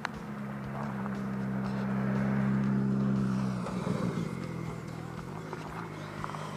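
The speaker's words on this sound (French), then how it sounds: "il y a de la circulation aujourd'hui" Road traffic rolls past a Peugeot 309 GRX and a Citroën 2CV6, a steady engine drone swelling as a vehicle passes close, then easing into general road noise.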